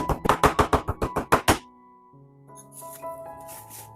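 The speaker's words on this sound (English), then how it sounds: "I prefer chopping the pork by hand" A knife chops pork on a board with about nine quick, evenly spaced strikes, then stops, leaving faint tonal background sounds.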